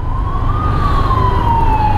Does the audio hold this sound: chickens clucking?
no